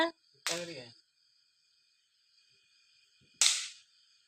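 A small Diwali firecracker burst by a child: two sharp cracks about three seconds apart, with a brief voice just before the first and quiet between them.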